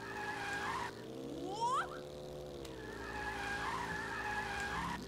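Kart drifting in All-Star Fruit Racing, a steady engine drone with a rising tire-skid squeal in the middle and a brief dip before the motor returns, near and loud with no talk.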